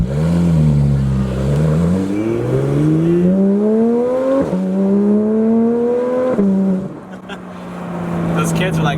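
A Porsche 991 GT3 engine revs hard and close, its pitch climbing smoothly through several long pulls, dropping back and rising again before settling near the end.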